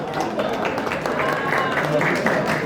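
Spectators at a race finish applaud a third-place women's finisher, a dense crowd clapping with cheering voices and talk mixed through it, steady and moderately loud throughout.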